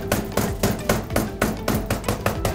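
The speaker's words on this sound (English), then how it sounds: "So we're gonna pound it to make it flat." A hammer pounds a bagged cut of Ibérico pork flat in a Spanish chef's kitchen, with about eight dull, evenly spaced thuds, close and fairly loud, and no talking.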